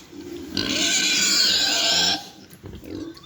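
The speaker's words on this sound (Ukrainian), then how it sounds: "Ось є фінішні свині." Finishing pigs grunt and squeal loudly up close in one long, drawn-out cry, then lower grunting continues.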